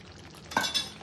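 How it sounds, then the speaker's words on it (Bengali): Chicken biryani with potatoes is stirred in a pot, heard as a quick, faint scrape and clink or two of the spoon against the pot in an otherwise quiet moment. "তো হাতে এটাকে একটু এবার নেড়ে চেড়ে মিশিয়ে নেওয়া হচ্ছে"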